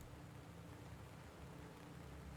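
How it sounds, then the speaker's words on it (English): Steady rain falls in the tank game GHPC, a dense, even hiss with low rumbling underneath, continuous and fairly quiet throughout with no voices. "I hear rain."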